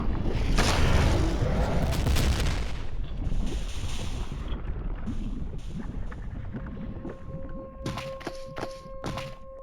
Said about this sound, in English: This looks like some sort of cannon. Well, let's blast open that door then.